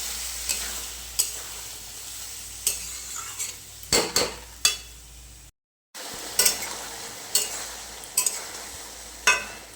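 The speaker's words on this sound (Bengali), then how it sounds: "মটরটা দিয়ে দিলাম একটু ভালো করে কষে নেবো" Green peas stir-fried in hot oil for ghugni, a soft crackling sizzle under repeated sharp scrapes and knocks of a spatula against the pan, roughly one every second, with a brief silent gap midway.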